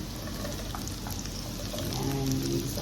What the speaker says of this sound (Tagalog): inigisa ko muna yung bawang